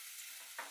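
Garlic and onions are stirred in a frying pan, giving a soft, faint sizzle with one brief scrape of the utensil near the end.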